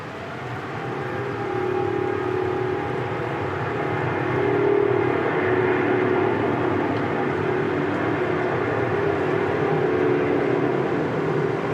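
Jet engines of an airliner at Sydney Airport in wet, windy weather: a broad, steady roar with a sustained whine, building slightly and holding loud and continuous, with no talking.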